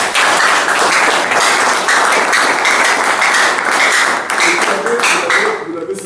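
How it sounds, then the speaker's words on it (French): An audience applauds at a French-language political gathering, producing dense, loud, sustained clapping that carries on steadily without pause and thins slightly at the end. "Je vous prie de l'applaudir"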